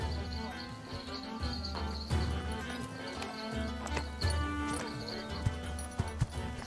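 Horses of the Yam messengers in Age of Empires IV clip-clop along steadily, and a whinny breaks through once. The hoofbeats sit under spoken narration, with faint birds chirping behind them.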